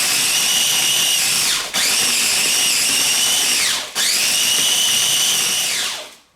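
A food processor grinds bread into breadcrumbs with a loud, steady high-pitched whir, running in three long bursts that each wind down briefly before starting again, then stopping at the end.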